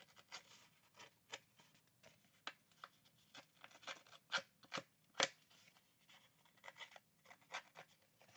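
Scissors snip through paper scraps being cut for a handmade card, a run of close, crisp cuts with a few sharper louder snips, faint and alone with no talk.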